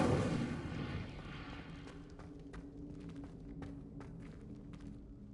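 A fire spell cast in the Hogwarts Legacy video game: a loud whooshing, rumbling burst at the start that settles into a crackling flame texture with scattered sharp snaps, fading lower over about five seconds.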